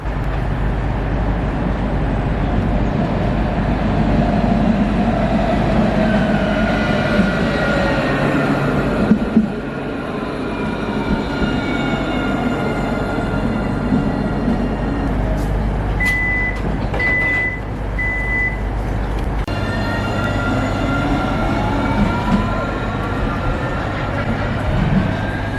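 A tram at the platforms of a Nottingham tram stop gives a steady, loud rumble of wheels and motors with a string of short electronic beeps partway through; nobody speaks.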